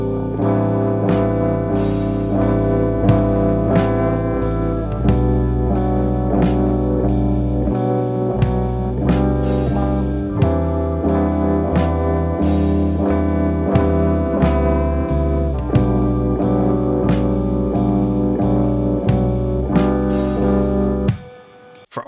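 Slowcore beat built in FL Studio: a steady, full mix of sustained, layered harmonic tones over deep bass with regular drum hits, looping evenly for about twenty seconds before cutting off abruptly near the end.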